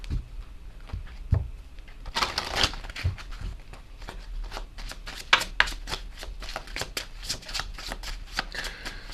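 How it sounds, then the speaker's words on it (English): Message cards being shuffled by hand: rapid papery riffles and flicking card slaps close up, with a longer burst in the middle and steady shuffling continuing after, no speech. "Okay, so let's get some of these message cards as well."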